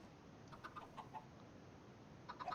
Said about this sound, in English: And here are my chickens.